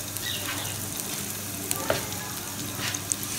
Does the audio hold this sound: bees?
no